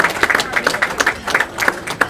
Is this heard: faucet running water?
no